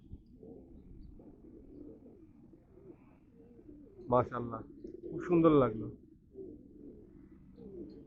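Pigeons in a loft housing around two to three hundred birds coo softly and continuously in the background, while someone speaks briefly over them in the middle.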